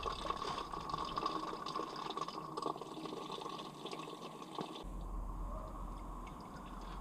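Engine coolant drains slowly from a Peugeot 208, a soft, steady trickling and gurgling of liquid, faint and continuous, deepening into a fuller low rush near the end.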